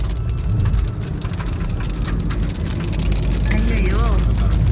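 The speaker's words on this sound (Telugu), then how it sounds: "ఇక్కడ వర్షం ఇప్పుడు స్టార్ట్ అయింది" Rain starts falling near a road where a car approaches, a steady broadband hiss of drops filling the scene with faint murmur beneath.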